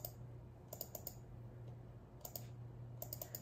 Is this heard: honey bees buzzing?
no